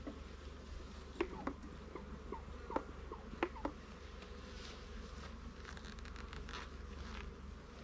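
Honey bees buzz around a backyard hive at an off-grid home in a low, continuous drone. A few sharp knocks and taps from hive handling sit over it, and some faint rustling comes near the end.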